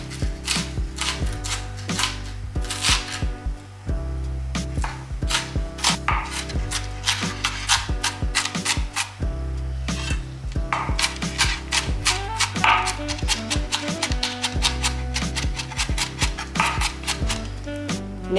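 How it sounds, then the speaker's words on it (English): Rapid, uneven knife chops through green peppers on a cutting board, sharp close taps in bursts with short pauses, no voices. "So I'm going to start by chopping up all my green peppers."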